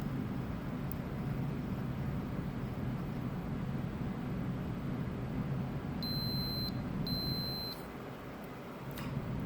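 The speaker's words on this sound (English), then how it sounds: "So if they are connected, you should be able to see a beeping." A continuity tester sounds two short, steady electronic beeps in succession as its probes touch connected pins on a hotplate-soldered PCB, clear above a constant low background hum.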